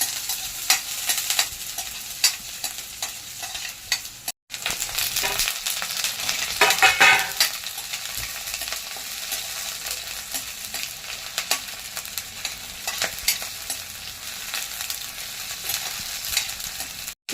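Garlic and ginger sizzle and crackle in hot oil for a long stretch, with stirring scrapes throughout and a brief drop-out early on.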